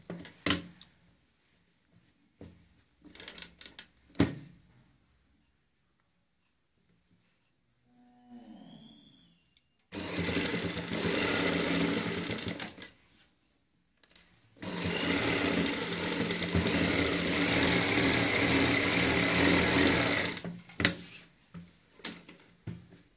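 A sewing machine top-stitches the folded-in neckline of a patchwork kurti, running in two steady, fairly loud bursts of about three and six seconds, with quiet handling sounds between them.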